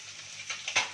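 Banana flower curry sizzles in a pan while being stirred, a soft hissing bed broken by a few scraping strokes that grow louder toward the end.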